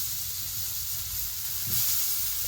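Potato pieces sizzle in a hot pan during cooking of a fish curry, a close, steady frying hiss with a brief swell as more is added, no talking.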